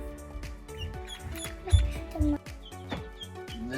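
A newly hatched duckling, about 30 hours old and held in the hand, gives soft repeated high peeps in short irregular bursts, close up and fairly quiet with faint handling noise.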